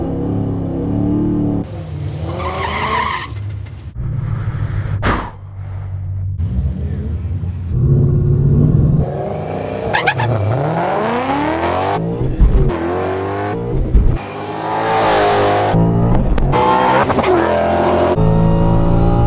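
A 700+ horsepower 2015 Ford Mustang GT making a drag-racing pass: loud engine revving with rising sweeps through several gear changes and a possible brief tire squeal, close and powerful, with a voice in the clip.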